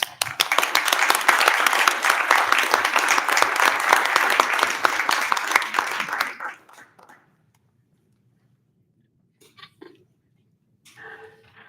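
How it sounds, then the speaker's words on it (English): Attendees at a joint Taos County and Town of Taos council meeting give a round of applause, a dense burst of many hands lasting about six seconds before fading to quiet, with a few faint murmurs afterward. "I think we should all give a round of applause to Contessa for that grant application"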